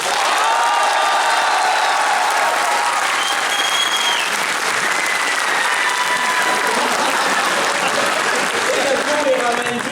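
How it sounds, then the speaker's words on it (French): Loud, sustained audience applause fills a convention talk at MAGS 2013, a dense wash of clapping with some cheering from the crowd that runs steadily for the full stretch. "je vous demande d'applaudir très fort les joueurs du grenier"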